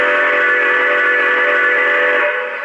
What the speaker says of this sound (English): Let's try the whistle steam right here is where it comes out.